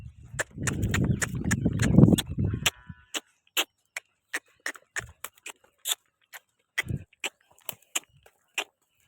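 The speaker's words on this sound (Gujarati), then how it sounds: "હવે ગાયો અંદર બધી વળી રહી છે, બધી ધડમ ધડા કરી રહી છે" A herd of cows shuffles into a shelter, starting with a dense rumbling scuffle before breaking into a sparse, irregular series of sharp, close hoof knocks and thuds on hard ground.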